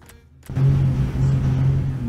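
A car engine in the background during a FIFA 17 gaming session, a low, steady rumble that starts abruptly after a brief quiet moment and keeps droning at moderate level.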